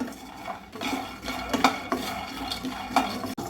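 Peanuts are stirred and roasted in a pan, a close, steady scraping and rattling of a spoon against metal with a few sharper clinks.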